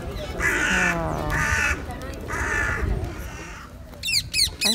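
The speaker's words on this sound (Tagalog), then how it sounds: "Yung mga uwak naman, ayun po, nag-iningay rin. Yun po rin yung uwak." Crows caw loudly and repeatedly in London's Hyde Park in winter, a series of harsh, close calls in a regular rhythm, with other birds chirping briefly near the end and people speaking in the background.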